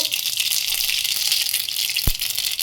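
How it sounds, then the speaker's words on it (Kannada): Mustard seeds fry in heated oil with a steady, dense crackling sizzle throughout, loud and close, with a brief low thump partway through. "ಒಂಚೂರು ಎಣ್ಣೆ ಕಾಯಕ್ಕಿಟ್ಬಿಟ್ಟು ಅದಕ್ಕೆ ಸಾಸಿವೆ ಹಾಕ್ತಾಯಿದ್ದೀನಿ"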